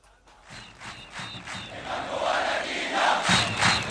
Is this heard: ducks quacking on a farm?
no